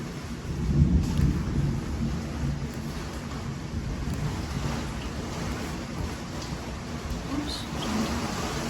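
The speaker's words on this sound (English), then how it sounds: "So we're really getting a good storm." A thunderstorm with rain keeps up a steady low roar and rumble outdoors, with heavy rain and wind hitting a window, a louder thunder swell near the start, and no speech.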